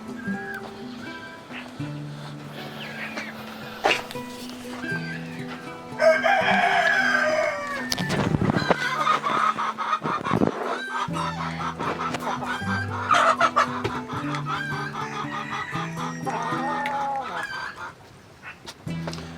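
Chickens, including a mother hen with chicks, cluck and chatter close by, with a rooster-like call rising in the middle; the fowl sounds continue steadily throughout.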